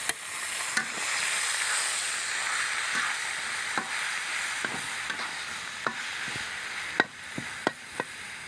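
Helencha leafy greens fry in a hot pan with dried chillies, giving a steady close sizzle broken by sharp spatula scrapes and stirring knocks at irregular intervals.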